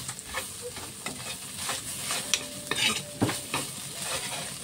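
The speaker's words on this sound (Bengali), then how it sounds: "দিয়ে ভালোভাবে মশলাটাকে কষাতে হবে" Spice masala for a rohu fish chop, with garam masala and ground black pepper, fries softly in a pan while a utensil stirs and scrapes in irregular strokes, with faint sizzling underneath.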